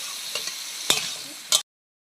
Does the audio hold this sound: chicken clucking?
no